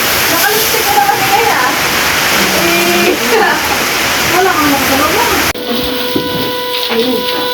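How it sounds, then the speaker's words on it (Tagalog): Water pours into a cooking pot of lomi with vegetables in a continuous loud splashing gush. People talk over it and switch to quieter speech near the end. "Ating lalagay ng tubig."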